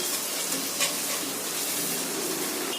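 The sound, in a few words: ginger paste sautéing with onions in a pan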